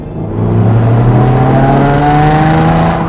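A 2015 Hyundai Genesis Coupe 3.8 R-Spec engine revs up loudly and steadily, its pitch climbing as it accelerates for about three seconds with no talking.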